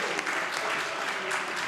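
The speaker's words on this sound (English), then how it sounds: "Let us give them a round of applause again" Steady applause from parliament members in a legislative chamber, a dense even patter of clapping that holds at a constant level throughout.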